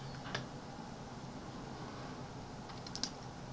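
Quiet computer keyboard typing at a desk, a few soft isolated key clicks near the start and end over faint steady background hiss.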